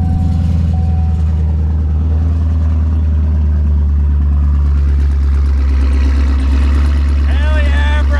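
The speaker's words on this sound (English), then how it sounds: "let's go ahead and fire her up and hear what she sounds like" A straight-piped race car engine thunders at close range, a loud, deep, steady rumble with a pulsing rasp that shifts in pitch toward the end, filling the whole stretch with no clear speech over it.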